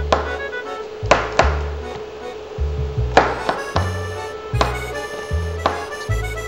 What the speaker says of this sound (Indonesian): bawang putih ini kita akan cincang supaya dia jadi kici-kici